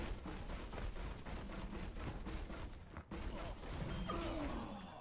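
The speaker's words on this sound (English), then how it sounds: "Let's hear those guns" Guns firing in Overwatch: rapid, loud bursts of automatic gunfire in a steady rhythm, briefly cut off near the middle, then resuming with game effects and a faint voice underneath.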